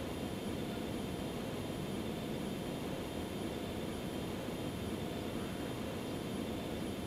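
Steady, broad roar of an airplane engine, constant and fairly distant, holding at an even level throughout with no voices.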